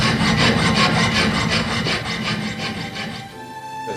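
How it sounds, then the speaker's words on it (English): Saw blade cutting off the edges of a silver ring, a steady rapid rasping of back-and-forth strokes, close and loud, slowing and thinning toward the end. "So you've sawn off the edges with your new blade."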